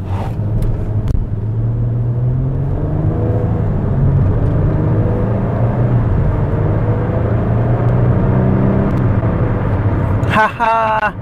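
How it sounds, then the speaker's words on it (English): A Nissan Altima sport version drives along, its engine and road noise giving a steady rumbling whir with rising and falling engine tones under a person talking inside the car. "This car is not super fast, but it's 0 to 60 is pretty quick, because it is the sport version of the Altima."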